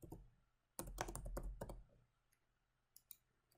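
Computer keyboard typing on a spreadsheet, a dense burst of keystrokes close up, then a quiet gap and a few isolated clicks near the end.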